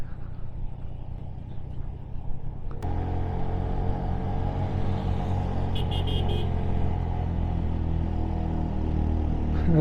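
A Metro Plus 110 cc motorcycle descends a hill on the way to Keokradong with the engine braking in gear. After a sharp knock the engine drones steadily, loud and close, with a continuous low rumble and brief faint high tones.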